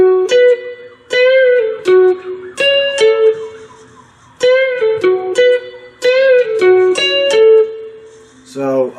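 A 4-string cigar box guitar plays a slow lead phrase, with distinct plucked notes, bends and sustained tones in an uneven rhythm, alone and close.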